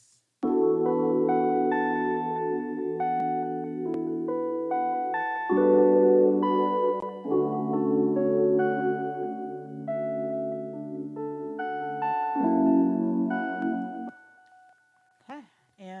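Sustained chords from a small 32-key keyboard, layered with effects and washed in reverb, play steadily for about fourteen seconds in a chill lofi beat before fading into a few soft closing notes.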